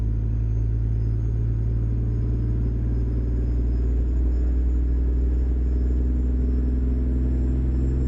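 Kenworth W900 truck in American Truck Simulator, hauling out of Fairbanks, Alaska: a steady, loud low engine drone and road rumble that holds even and unbroken from start to finish, with no talk.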